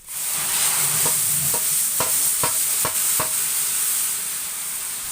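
A big wedding batch of about 35 kg of meat sizzles steadily and loudly in a pot after half-warm water is added, with a run of sharp ladle scrapes and clacks roughly every half second.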